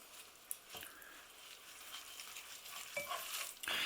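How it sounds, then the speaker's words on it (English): Quiet stirring of a soya burger mixture in a bowl, a few soft scrapes and wet squishes spaced out over a faint background. "let's give everything a very good stir"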